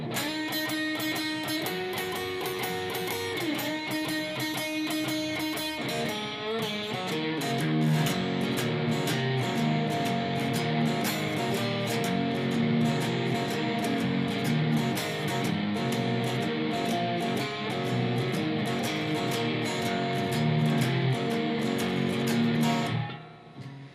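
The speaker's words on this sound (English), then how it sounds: "Now here I'm going to play everything that we've went over so far, the introduction and the entire shuffle." An electric guitar plays a song's introduction followed by the full shuffle at real speed, a steady, loud blues groove of bouncing chord strums and bass notes with no speech, ending with a short ringing tail.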